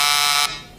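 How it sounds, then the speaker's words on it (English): Game show wrong-answer buzzer, a loud harsh continuous electronic buzz held for about half a second before cutting off into a faint fading tail. "Let's hear the buzzer one more time."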